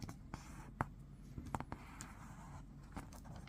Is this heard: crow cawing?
no